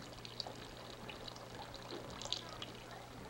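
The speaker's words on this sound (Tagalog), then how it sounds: "Mahinang tulo eh." Liquid pours weakly from a bottle in a faint, uneven trickle, with thin splashy drips over a low background hum at a drinking session.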